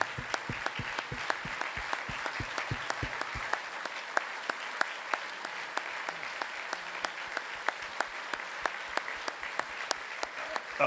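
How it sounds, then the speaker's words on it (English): A round of audience applause at a family speech event, with sharp, evenly spaced claps standing out over a softer crowd clapping bed throughout. "We'd like to give you a quick round of applause."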